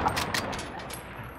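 Rapid gunfire bursts in a shooter video game, a dense crackling barrage running the whole moment at steady loudness with no voices over it.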